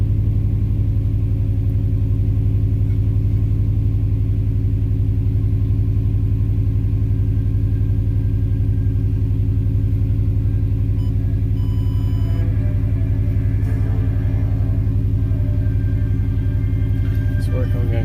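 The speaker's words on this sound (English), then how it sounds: "Car's running." A 2002 Subaru WRX engine idles steadily and close by, a constant low rumble that stays loud and even throughout with no revving, and faint clicks and rattles enter near the end.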